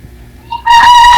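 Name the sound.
rooster crowing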